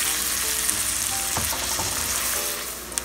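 Onions frying in melted butter for pork sisig, giving a loud, continuous close sizzle with a brief burst of crackling as they settle into the pan.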